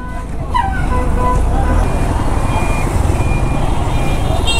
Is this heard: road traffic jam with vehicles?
yes